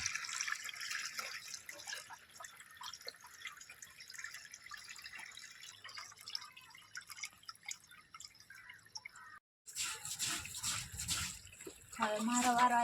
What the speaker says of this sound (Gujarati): તો હાડો હવે તો મારે કપડાં ધોવાના છે ને મેં કપડાં ધોઈ લઉં